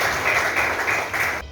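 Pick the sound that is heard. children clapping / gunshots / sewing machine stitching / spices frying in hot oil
children clapping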